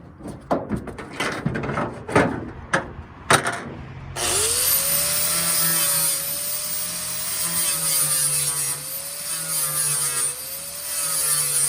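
A flap disc on an angle grinder smooths metal around the window area of a Ford F100, first a few short knocks and taps, then a loud sustained whining grind with a wavering pitch that runs to the end.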